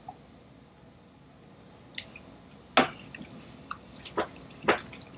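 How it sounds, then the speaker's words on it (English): A drop of water falls into a glass of Macallan Scotch whisky, giving a few small, close, crisp drips and clicks spaced apart over a quiet room hum, with no talking. "I need to add a drop of water."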